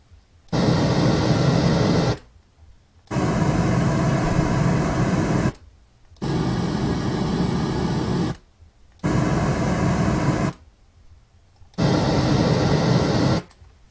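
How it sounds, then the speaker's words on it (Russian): Brown noise from Dynaudio LYD studio monitors plays in five steady bursts of roughly two seconds each, broadband with a heavier low end, separated by brief gaps of silence and with no speech. "Теперь коричневый шум."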